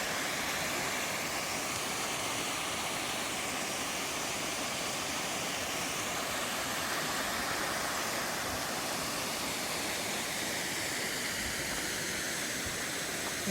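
Snow runoff thunders down a waterfall on Mt. Rose near Lake Tahoe, a loud, unbroken broadband roar heard up close with no other sounds.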